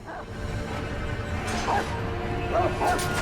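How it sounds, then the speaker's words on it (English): A few sharp yips and barks from hostile dogs in Sekiro: Shadows Die Twice sound out over a low game ambience, spaced irregularly and fairly close. "I hear barking."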